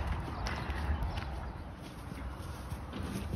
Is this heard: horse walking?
yes